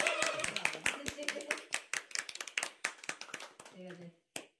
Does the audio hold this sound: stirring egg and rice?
no